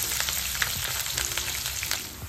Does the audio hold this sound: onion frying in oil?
yes